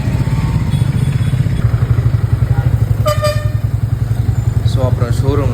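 A new Triumph T4 motorcycle pulls away from a showroom, its engine thumping in a steady, rapid pulse throughout, with a few short horn toots from nearby traffic breaking in near the end.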